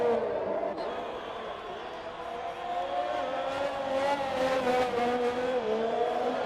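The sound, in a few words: race car engines from a video game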